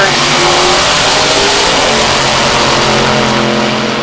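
Drag race cars roar hard off the line on a qualifying run at a spring nationals meet, a loud, close, sustained engine scream with a commentator talking over it.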